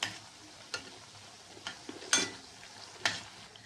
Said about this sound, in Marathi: तर आता हे आपले गुलगुले छानपैकी तळले गेले आहेत